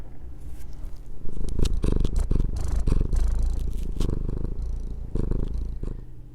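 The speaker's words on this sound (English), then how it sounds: "My cat is investigating." A curious male cat purrs close up, a steady rumbling purr that continues throughout with brief rustling and shuffling noises mixed in.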